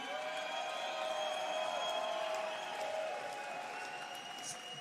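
Faint, distant applause from a crowd at a fight event greeting fighter James Foster, soft steady clapping sitting under a louder sustained tonal hum and room noise.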